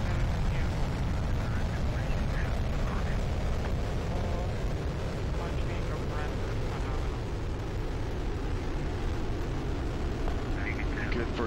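A Soyuz rocket launching into orbit, its four boosters and single engine producing a continuous, dense, heavy roar that stays loud and steady throughout, with no breaks.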